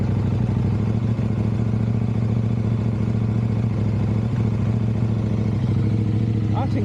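KTM 790/890 Adventure parallel-twin motorcycle engine idling on only one cylinder, a steady loud close-up rumble with a rough uneven pulse throughout.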